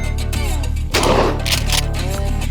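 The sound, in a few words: 308 rifle gunshot at the shooting range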